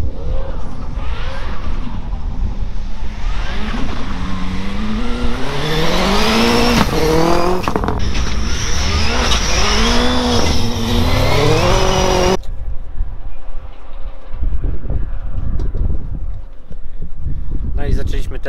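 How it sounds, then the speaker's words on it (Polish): Ford Focus RS with Öhlins suspension driving on a wet race track, engine revving and rising through gears loudly for several seconds before cutting to a rougher, lower drone; no one speaks. "Po raz kolejny jedziemy testować zawieszenie Olinsa na tor. Tym razem mamy jeździć po mokrym."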